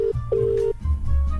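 A telephone rings in short electronic tones, one brief ring followed by a longer one, close and clear during a prank call, with low background noise underneath.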